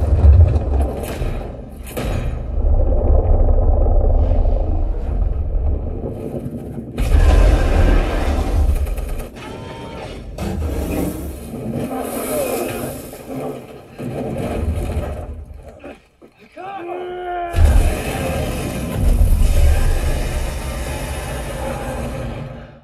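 Deep, heavy bass from a Monster Hunter movie demo played through a home theater with six twelve-inch subwoofers, loud booming rumble and crashes running throughout, with a brief drop near the end before it surges back.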